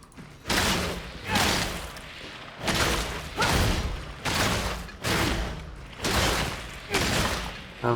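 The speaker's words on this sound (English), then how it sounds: "We'll deal with a horde," Eviscerator chainsword light attacks cutting through a horde in Warhammer 40,000: Darktide, a steady series of about eight loud, broad swings and impacts roughly once per second, each followed by a short tail.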